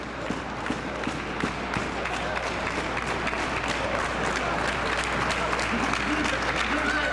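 A wrestling crowd cheers and claps on their feet, a dense, continuous roar with scattered claps, while a commentator talks over it.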